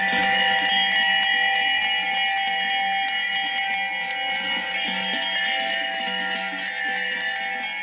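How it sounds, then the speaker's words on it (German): Many cowbells ring together as cows and heifers move across a mountain during an alpine cattle drive, a dense continuous jangle of metallic tones at steady loudness with no talk. "Über den ganzen Ahornacher Berg hört man jetzt die Kühe und Kalbinnen ihre Glocken läuten."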